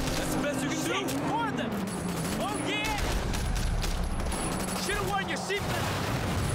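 Gunfire from Sleeping Dogs: Definitive Edition during a car chase, with scattered shots over a steady roar of engine and road noise while voices shout throughout.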